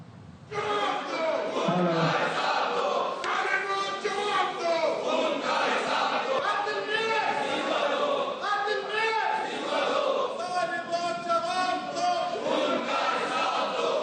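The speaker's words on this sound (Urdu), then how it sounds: "جماعت اسلامی کے ارکان کا احتجاج, میئر کے خلاف نعرے لگائے" Jamaat-e-Islami council members chant slogans against the mayor inside a council session, many voices shouting together in loud, continuous, rhythmic bursts that carry on without a break.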